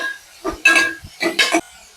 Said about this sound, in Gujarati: હવે આ બધું તતડી જાય એટલે આપણે ડુંગળી બટેકા ઉમેરી દેવાના છે. સારી રીતે એકવાર મિક્સ કરી લઈશું.